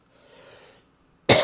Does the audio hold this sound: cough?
yes